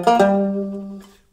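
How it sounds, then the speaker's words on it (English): A single short blues lick drawn from the blues scale position rings out clearly, a few quick notes at the start settling into a sustained tone that decays over about a second. "lick 6 is a blues lick based on the blues scale"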